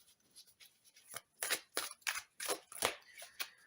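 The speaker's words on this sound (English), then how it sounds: "I love to shuffle, but I don't like to bend my cards" Tarot cards are shuffled in a string of soft, crisp riffling bursts with short pauses between them, close by and without speech.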